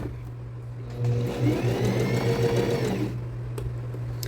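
A sewing machine stitches thin fabric in a short, fast burst of rapid needle chatter and motor whir that starts after a second and stops near three seconds, set over a steady low hum.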